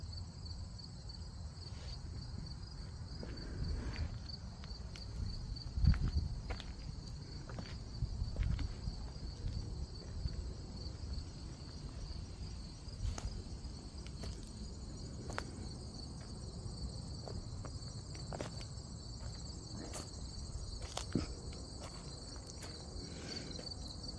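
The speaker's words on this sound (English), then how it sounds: "You can hear the crickets and grasshoppers in here." Crickets and grasshoppers chirp steadily in a home, a thin continuous high trill with a few soft thumps and shuffles underneath and no voices.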